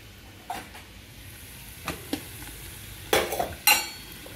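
Eggs frying in a pan with chili powder for an egg fry curry, a faint low sizzle broken by a few sharp spatula clinks and scrapes, the loudest near the end, with no voices.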